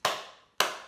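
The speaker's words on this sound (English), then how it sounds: "we're also going to add in two claps" Two sharp hand claps half a second apart, crisp and close, each ringing off briefly, after a spoken tongue twister in a children's lesson.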